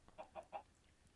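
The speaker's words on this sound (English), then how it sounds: "There are chickens in my house." Minecraft chickens cluck in the video game, three short clucks in quick succession, fairly quiet against a faint background with no talk.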